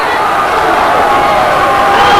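Basketball crowd in a high school gym jeering a player: a continuous loud wash of crowd noise, steady and close throughout with no clear break.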